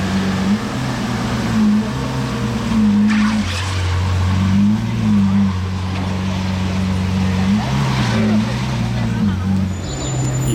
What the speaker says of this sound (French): celle-ci elle a un échappement full tube Novitec